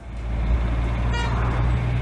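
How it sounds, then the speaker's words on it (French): Horn of a vintage Mercedes 190SL sounding once, a short bright toot rising over steady low engine rumble, close and fairly loud. "Le klaxon il est trop bien."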